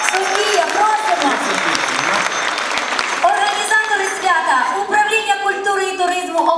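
Audience applause breaks out at a Ukrainian vertep Christmas carol performance, loud dense clapping that thins out toward the end while voices talk over it.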